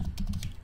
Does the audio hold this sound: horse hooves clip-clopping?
no